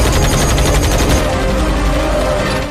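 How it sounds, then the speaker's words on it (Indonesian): Dense automatic gunfire from a sniper film, a sustained loud barrage of rapid shots filling the clip with no pauses. "Sementara John terus memberondongkan tembakan secara membabi buta"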